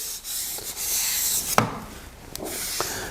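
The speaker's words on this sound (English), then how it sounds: "It's a really great way to sharpen a wet waterstone." A wet waterstone is rubbed back and forth with even pressure to flatten it, giving a close gritty swishing scrape with a few sharper knocks as the stroke changes direction.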